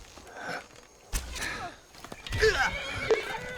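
In the video game Skyrim, a horse whinnies over clopping hooves and scattered thuds, with brief game effects in between; the sounds are fairly close and moderately loud.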